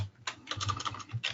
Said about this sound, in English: Sorry about the typing noise in the background there.